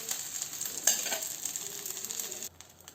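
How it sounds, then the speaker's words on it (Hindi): Masala-coated fish fries in oil with a bright, continuous crackling sizzle and a small knock early on, before the hiss abruptly drops away near the end. "और इसी तरीके से हम बाकी की फिश को भी फ्राई कर लेंगे।"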